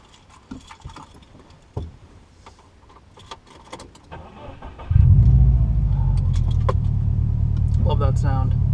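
Keys jingle and rustle quietly before a 2014 Subaru WRX engine fires up abruptly, then settles into a loud, steady, close-up idle with a deep burbling rumble.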